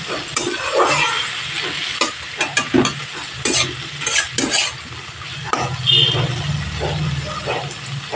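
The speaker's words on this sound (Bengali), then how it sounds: "এর সাথে পেঁয়াজ কলিগুলো একটু হালকাভাবে ভেজে নেব।" Spring onions frying in a pan over a medium gas flame alongside potato and eggplant, a steady close sizzle broken by repeated scrapes and clinks of a stirring spoon, growing denser midway, without talk.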